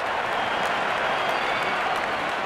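A cricket stadium crowd applauds a batsman's fifty during an RR vs RCB qualifier, a dense, steady wash of clapping and cheering at full volume throughout, with no individual voices standing out.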